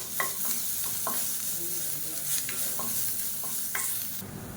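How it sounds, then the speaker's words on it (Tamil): Crushed garlic fries in oil in a kadai with a constant loud sizzle, while a spoon scrapes and stirs through it in brief repeated strokes, close and clear with no talking. "இப்போ பாருங்கள், பூண்டு நல்லா வறுபட்டுருச்சு"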